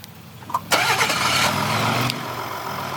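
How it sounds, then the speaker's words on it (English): A 2018 Ford F-150 Platinum pickup cranks and fires up from its push-button start, with a short starter whir followed by a loud catch, then settles into a steady idle, heard close by with no talking. "all I have to do is double tap on the engine start-stop button and the vehicle will start right up"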